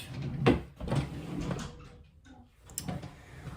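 A makeup table drawer sliding open and shut, several soft wooden knocks and scrapes at close range with quiet rustling between.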